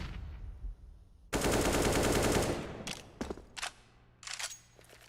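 Automatic rifle fire in a Counter-Strike: Global Offensive professional match on the Mirage map: a loud sustained burst of rapid shots, then several short separate bursts and single cracks, with no talking.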